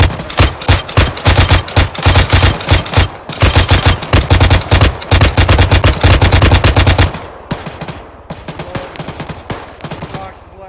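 Rapid machine-gun bursts in a military video game, fired at a helicopter: loud, dense volleys of sharp shots for about seven seconds, then quieter scattered fire with an engine hum beneath.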